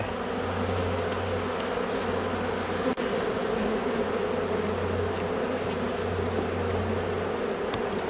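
Honeybees drone in a thick, unbroken buzz right near the hive, with a single soft tap midway and no talking.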